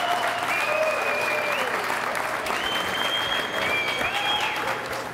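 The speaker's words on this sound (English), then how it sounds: "let's give these guys another round of applause" A crowd at a men's open singles racquetball final applauds the finalists, sustained even clapping filling the hall with a faint tonal whistle-like sound drifting through.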